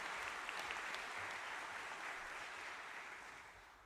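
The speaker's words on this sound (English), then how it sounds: "Roseanne and Jay and Terry and Brandon also deserve that round of applause" Faint applause from an audience at a new student orientation, a steady, even patter of many hands clapping that slowly tapers off toward the end.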